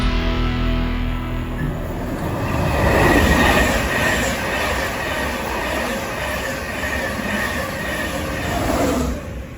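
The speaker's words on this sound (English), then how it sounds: "I am currently at Grantham Station waiting for my train to London King's Cross" Train at Grantham railway station, a close, loud rumble of wheels on rails that rises and falls steadily, with faint squeals and clatter and no talking.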